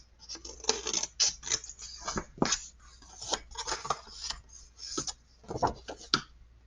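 Scissors snip through paper pieces in a quick, irregular series of close, crisp cuts with short pauses between strokes.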